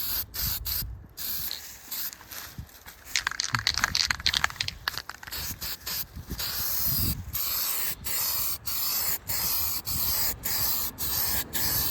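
Spray paint hisses inside a small-block Ford 347 engine block during short-block assembly, in repeated short bursts with a few longer passes, close up and fairly loud, with some light rubbing and clinking between sprays.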